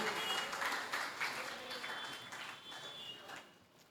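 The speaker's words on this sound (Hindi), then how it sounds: "बजा दो तालियां" An audience at a Jain religious discourse during the Dashlakshan festival claps in a dense patter of applause that gradually fades over a few seconds.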